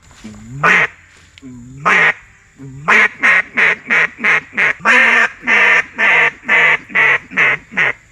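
A duck call quacks loudly and up close: two single quacks, then a fast rhythmic string of about a dozen quacks.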